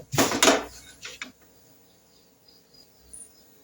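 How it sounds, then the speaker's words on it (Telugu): A cooking pot is set down on the stove to begin the tempering for sambar. A couple of close metallic clunks and scrapes open, then quiet room tone with faint outdoor insect and bird sounds. "పోపుకి అయితే గిన్నె పెట్టేసుకుందాం"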